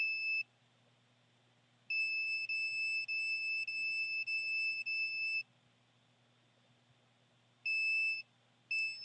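A heart monitor alarm sounds in loud, steady electronic beeps: two long stretches of tone, then a short burst and a brief blip, over a low constant hum.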